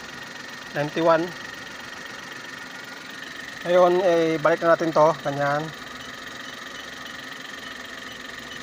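A Suzuki DA64 engine idles at a steady, faint hum throughout, while someone speaks over it in two short stretches.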